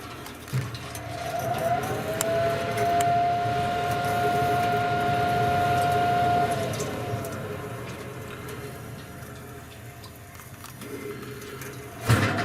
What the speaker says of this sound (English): Yeah, it's a computer fan.